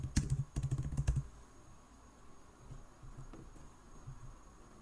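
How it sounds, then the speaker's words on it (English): Quick typing on a computer keyboard, a close burst of clattering key presses in the first second, then a few softer, scattered taps in a quiet room. "I'm going to press Command K on my keyboard and type in Batch Styler."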